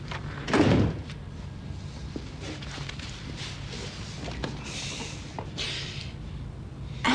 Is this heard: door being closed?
yes